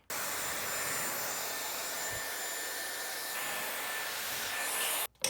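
Hair dryer blowing on hair, a steady loud whoosh of air that runs unbroken for about five seconds, then cuts off abruptly near the end with a brief clatter.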